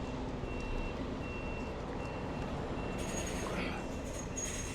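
A truck reverses near a bend, its reversing alarm beeping in steady, evenly spaced high tones over a constant loud engine and road rumble.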